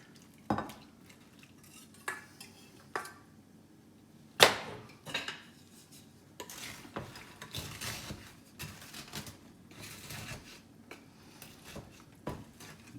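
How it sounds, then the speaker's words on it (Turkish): A spoon stirs biscuits through chocolate sauce in a bowl, giving sharp scattered clinks and scrapes against the dish between softer wet mixing sounds, close and intermittent throughout. "Bütün bisküvilerin çikolata sosla buluşmasını sağlamamız gerekiyor"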